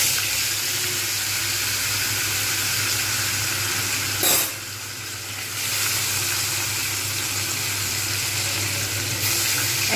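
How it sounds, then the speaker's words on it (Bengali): Pieces of fish sizzle steadily in hot oil in a pan, a loud, continuous frying hiss with a brief splash-like burst partway through, no voices. "সুতরাং এবার আমি আঁচটাকে কমিয়ে দিয়ে একটা একটা করে মাছগুলোকে ছেড়ে দেবো"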